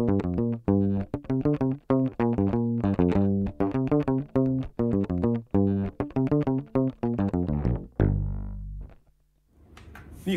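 A clean, dry bass guitar plays a busy rhythmic line of plucked notes, ending on a sustained low note that fades, then a brief pluck.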